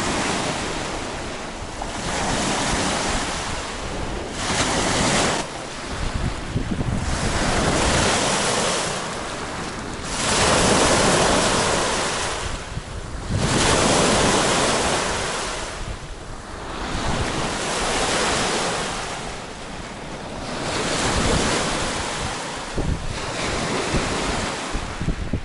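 Lake Baikal waves roll in and wash up a sandy shore in Buryatia in slow, repeated surges, with steady wind buffeting the microphone throughout.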